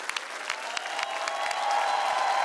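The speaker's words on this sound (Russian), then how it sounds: "Наши аплодисменты коллектива «Вива»." An audience applauds a student choir from a Moscow nuclear research university on a televised choir contest show, a dense steady clapping that swells slightly toward the end.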